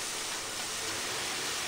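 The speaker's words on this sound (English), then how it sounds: "pour in this warm milk. Be careful because it is sizzling." Warm milk sizzles steadily as it is poured into a hot flour mixture for macaroni and cheese, a soft, continuous hiss with no talking.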